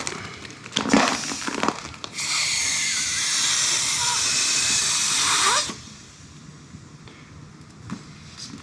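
Air hisses steadily for several seconds into an inflatable solar-powered camping light, loud and close, after a few sharp crinkling handling sounds; soft plastic rustles follow as the rush of air stops.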